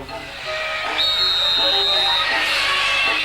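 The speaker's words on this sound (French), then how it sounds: "Ton sifflet les fait fuir." A shrill, steady whistle blows loudly for over a second against a hissing, noisy background, then fades into the rushing din.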